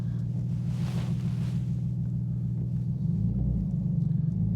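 Porsche GT2 RS engine rumbling steadily just after start-up, a deep continuous low drone that swells louder and pulses harder near the end, with no talk over it.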